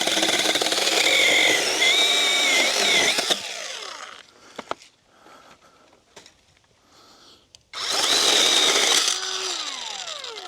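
A cheap chainsaw-style pole saw with a factory-sharp chain cuts through dried branches, its loud, high-pitched engine whine running for about three seconds, then quiet clatter, then the saw revving hard again and winding down.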